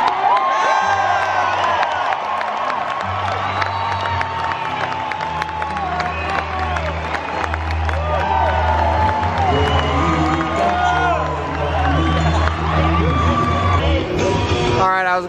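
A large outdoor political rally crowd in Billings, Montana cheers, whoops and yells continuously and loudly, a dense wash of voices with shouts rising throughout, before the event starts.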